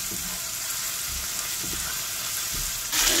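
Tomato, lemongrass and galangal frying in a little oil, a continuous hissing sizzle with low bubbling pops that swells louder at the very end.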